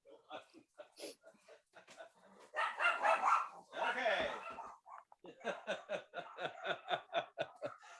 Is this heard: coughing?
no